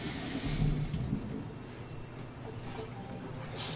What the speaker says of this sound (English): It's colder than my water coming out of the faucet there